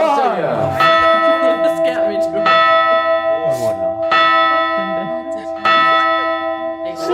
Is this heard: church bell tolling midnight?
yes